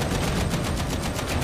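Rapid, continuous gunfire from a ranged weapon in Warhammer 40,000: Darktide, a steady stream of closely spaced shots with no talking over it.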